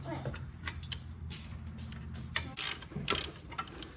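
A ratchet with a 21mm socket works on a brake caliper bracket bolt during a front brake rotor replacement, giving soft, close clicks and metallic taps in short irregular bursts. One brief sharper clank stands out near the middle.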